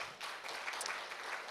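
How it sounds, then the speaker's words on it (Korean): Audience applause at a forum session on peace and coexistence on the Korean Peninsula, heard as faint, distant clapping from a hall, soft and continuous through the brief stretch. "큰 박수 부탁드리겠습니다"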